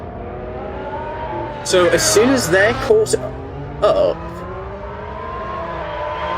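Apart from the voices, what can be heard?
F1 race cars accelerating to overtake safety car, racing video game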